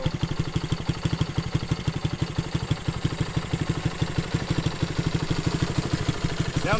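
A 1971 Honda CB100 engine idles on a cold start, a steady close-up mechanical putter with fast, even firing pulses and light clatter throughout.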